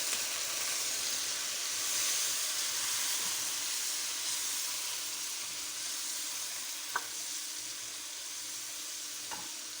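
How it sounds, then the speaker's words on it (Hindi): Masala for a chicken karahi, seasoned with salt, sautés in a pan with a steady, close sizzling hiss throughout, broken only by a couple of faint stirring clicks. "तो थोड़ी देर चलाएंगे, भूनते हैं।"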